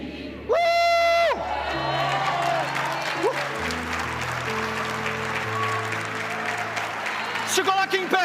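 A church congregation applauds together after a sermon, a steady mass of clapping and scattered cheers that continues under a preacher's amplified voice.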